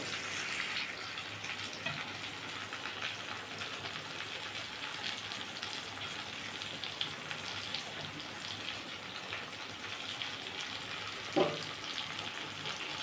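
Ginger garlic paste frying with browned onions in a pan for a Bengali-style country chicken curry, a soft, even, rain-like sizzle held throughout, with one brief louder clink near the end.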